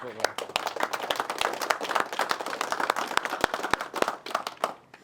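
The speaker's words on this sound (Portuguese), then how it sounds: "Me quero abrir e pedir aplauso para nós." Audience at a community clean-up event in Aruba claps and applauds, with a steady mass of close and scattered hand claps and some voices mixed in.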